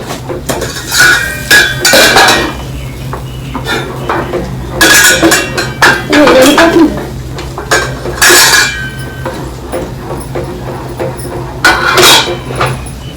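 A spoon knocks and scrapes against a metal pan while upma is stirred, loud irregular clanks and clinks in bursts with quieter gaps between them, close by and free of talk.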